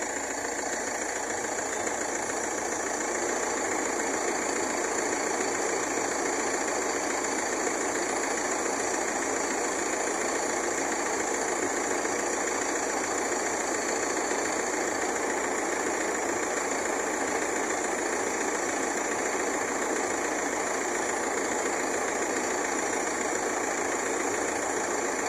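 A Fiat Sedici engine idles steadily with the air conditioning running, a constant even hum with a bright fan-like hiss on top, unbroken and unchanging throughout.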